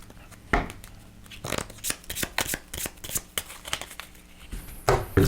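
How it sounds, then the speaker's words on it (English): Board game cards are shuffled into a pile on a tabletop, producing a close, continuous run of crisp riffles, slaps and shuffling rustles with irregular bursts and no talk. "All of these get shuffled into the pile from our quarantine."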